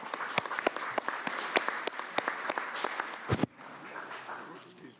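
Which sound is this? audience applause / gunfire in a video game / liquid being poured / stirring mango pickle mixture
audience applause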